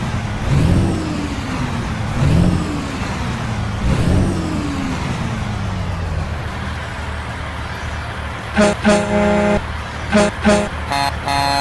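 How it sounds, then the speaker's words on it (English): An Oshkosh Defense HEMTT A4 military truck in American Truck Simulator revs its engine a few times, then sounds its standard horn in several loud, blaring honks of varying length near the end. "Standard horns."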